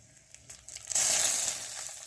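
Asafoetida hits hot oil in a tempering of mustard seeds, cumin and dried red chillies, bursting into a close, loud hiss that swells over a second and then fades slightly.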